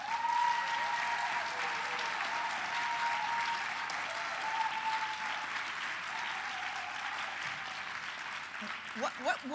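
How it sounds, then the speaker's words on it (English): Audience applause for volunteers at the Zero Project Conference 2026 award ceremony, a steady moderate wash of clapping sustained throughout, with faint voices and a few louder claps near the end. "Can we give them a round of applause?"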